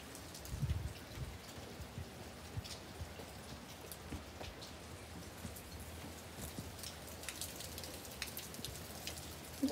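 Rain falling outdoors on a rainy day, spattering onto a pad: steady, fairly quiet patter with scattered closer drop hits throughout, no talking.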